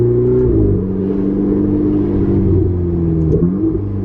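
Deep, throaty Ferrari engine with a Capristo sports exhaust, valves open, burbling at about 30 km/h, with steady exhaust rumble and small pitch shifts as the throttle changes.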